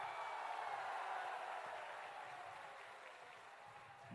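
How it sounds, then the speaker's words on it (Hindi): Crowd at an outdoor political rally in Kanthi clapping for a candidate, a soft, distant, continuous patter of many hands that slowly fades toward the end. "हमारे युवा उम्मीदवार सोमेंदु अधिकारी जी के लिए जोर से ताली बजाओ जरा"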